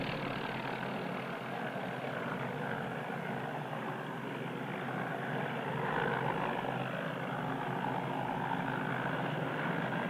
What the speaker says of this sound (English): Helicopters like this one carry passengers and light cargo from one community to another or to and from the airport.